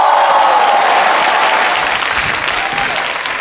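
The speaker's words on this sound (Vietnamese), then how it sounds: "Và một tràng pháo tay để đến với thí sinh đầu tiên." A studio audience at a comedy talent contest claps loudly and steadily for the first contestant, a dense burst of applause that eases off slightly toward the end.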